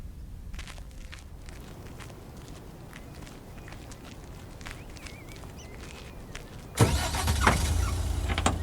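A car in snow from the video game Lake: a soft, steady engine and tyre rumble with faint crunching through most of the stretch, then a sudden louder surge of engine noise near the end as it pulls away.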